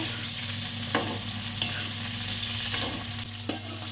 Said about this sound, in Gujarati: તો ગિલોડા એકદમ સરસ ફ્રાય થઈ ગયા છે